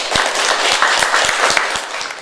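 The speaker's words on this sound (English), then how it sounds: "let's give Faith a huge round of applause here." Audience at a museum reunion event giving a round of applause, steady dense clapping from many hands, loud and close throughout.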